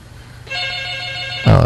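A telephone rings for an incoming caller on a live talk show, a steady electronic tone of about one second, followed by a louder burst of noise at the end.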